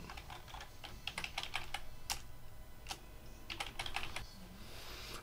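A password is typed on a computer keyboard in quick, uneven bursts of close key clicks with short pauses between them, over a quiet room hum and with no speech.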